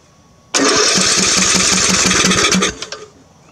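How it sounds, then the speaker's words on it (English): Car engine turned over with the key after a valve adjustment: a sudden loud, rhythmic cranking chug with even pulses lasts about two seconds, close by, then fades into a few clattering knocks. "We should hit the key and see if it'll turn over."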